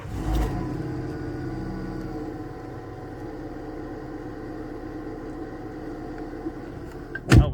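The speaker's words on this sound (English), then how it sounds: "Alternator sounds a little grumbly." A used car with 75,000 miles and a grumbly-sounding alternator runs at a steady idle, a low continuous hum with a faint whine, ending in a brief clunk.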